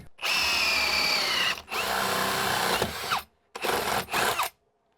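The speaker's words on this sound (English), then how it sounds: "I'm gonna drill down right here." A power drill runs in several loud bursts, whining as it bores through a house wall for electrical wiring, with short pauses between runs.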